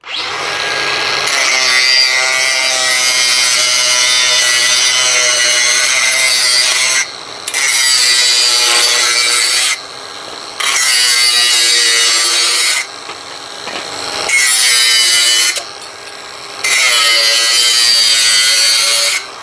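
An electric power saw on a pedal switch runs at variable speed 3, cutting with a loud, steady whine. The whine breaks off in several short gaps as the pedal is released, then surges back each time.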